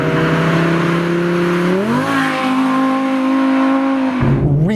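Audi R8 V10 Plus engine revving hard with rapid gear shifts, the pitch climbing, dropping at each shift and climbing again; loud and continuous with no talking.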